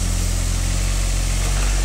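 A LiuGong 9018F mini excavator with about 46 hours of use, its diesel engine running at a steady idle, a close, loud and even low rumble with no talking.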